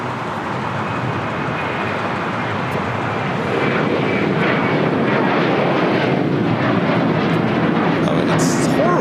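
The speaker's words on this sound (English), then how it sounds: "Next takeoff, heading to Baltimore. United Airlines Flight 741" A United Airlines Boeing 737-800 taking off at LAX makes a loud, continuous roar of jet engines that swells over several seconds, with a voice talking over it.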